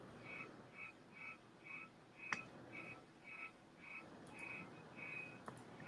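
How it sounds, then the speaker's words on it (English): Cricket chirping indoors, a steady series of short, evenly spaced trills repeating about every half second, faint and alone against quiet room tone. "There's definitely a cricket somewhere in here."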